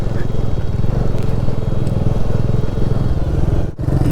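A motorcycle engine runs steadily while riding a mountain road on a Ladakh trip between Kargil and Namika La, a loud, constant close-up drone with a brief dip near the end.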